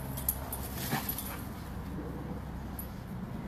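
Two rescue dogs playing indoors give faint whimpers and a few short yips against a steady background hiss, with no talking.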